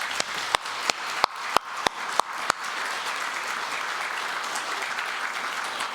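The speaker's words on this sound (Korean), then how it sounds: "다짐하는 뜻으로 다시 한번 박수하시겠습니다." An audience at a university anniversary ceremony breaks into sustained applause, opening with several sharp, evenly spaced claps before settling into a steady, moderately loud wash of clapping.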